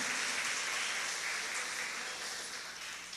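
A church congregation applauds in a broad, continuous wash of clapping that fills the room and slowly eases off toward the end.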